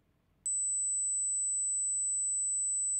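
A steady pure 8,000 Hz bell tone for a hearing test switches on abruptly and holds unbroken at constant loudness over a faint room hiss, with no talking.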